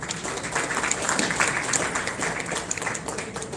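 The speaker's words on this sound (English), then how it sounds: "Please give him a big round of applause." Audience at a film festival award ceremony applauds, a fairly close, steady patter of many hands clapping at even loudness throughout the moment.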